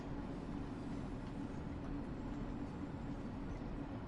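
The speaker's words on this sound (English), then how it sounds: "there's a Pendolino flying past" A Pendolino train rushes past in the Train Sim World 5 simulator, a steady low rumbling roar of rolling wheels and carriages, quiet and continuous with no talk.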